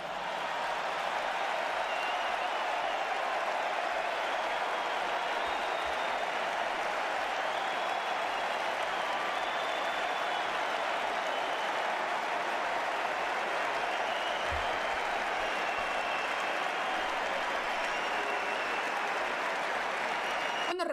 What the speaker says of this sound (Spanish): toda esta gente que está aquí de pie aplaudiendo a un presidente extranjero